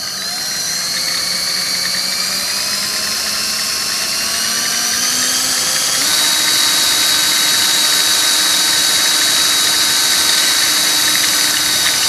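A 3D-printed herringbone planetary gearbox spins up with a steady, loud motorized whine whose pitch climbs. It jumps to a higher, louder whir about halfway and keeps running continuously, with no voices.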